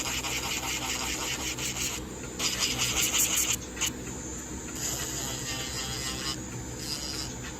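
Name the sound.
nail sanding band filing acrylic nail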